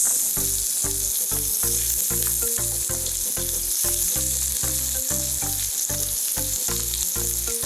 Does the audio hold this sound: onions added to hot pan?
yes